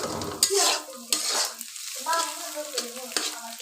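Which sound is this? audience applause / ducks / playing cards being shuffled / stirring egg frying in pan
stirring egg frying in pan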